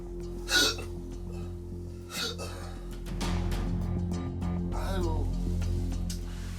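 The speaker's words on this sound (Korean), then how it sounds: "모두가 잠든 시간 남자는 홀로 딸꾹질과의 사투를 벌이고 있습니다" A man who has had hiccups for nine years gives two sharp, separate hiccups close up, then someone speaks over a steady background hum.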